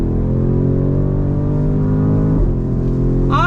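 A 2022 BMW X7 M50i with all-wheel drive accelerates hard onto a highway, its engine holding a loud, steady droning roar inside the cabin before a gear change brings a brief rising whine near the end.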